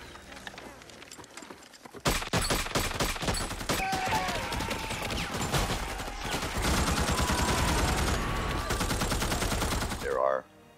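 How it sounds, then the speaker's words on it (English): Dense, loud bursts of gunfire, bullet whizzes and explosions from the film We Were Soldiers erupt after a quiet opening, continuing almost nonstop with rapid volleys and booms until an abrupt cutoff. "We placed every single gunshot, every single whiz, every single explosion"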